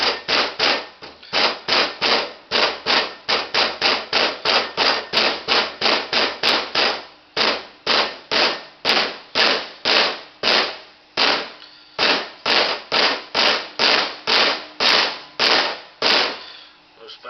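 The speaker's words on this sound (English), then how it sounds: "This one will have to be driven in. Don't put them in crooked. Take a soft-faced hammer," A soft-faced hammer or rubber mallet drives a seal into a transmission valve body with dozens of quick, evenly spaced dull taps in steady bursts, close up and continuous.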